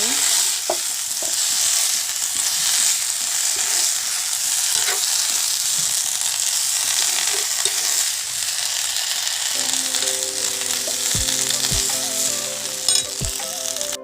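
Bitter flowers (tita phul) being stirred and fried in a pan, a steady close sizzle with scraping spoon strokes and a few sharp clinks near the end.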